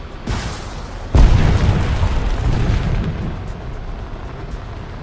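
Rocket explosions hit a base in War Thunder with a soft thump and then a heavy, deep boom whose rumbling roar slowly fades over several seconds.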